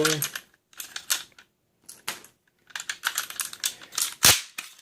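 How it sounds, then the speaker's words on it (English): Rifle rounds are loaded into an SKS magazine with a speed loader, giving a run of sharp, uneven clicks and metallic clacks in quick bursts with short pauses, ending in one louder snap. "I load up my rounds just like before"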